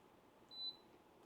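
A single short electronic beep from a Tosot 36K multi-zone ductless mini-split air conditioner, thin and fairly faint, sounding once over quiet room background.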